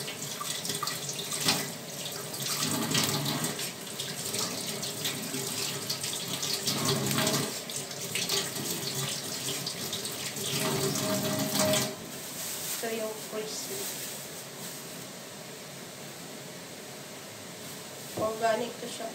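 Hot water runs from a tap into a sink in a home kitchen in Turkey, a steady splashing stream that later thins and eases off, with someone talking over it.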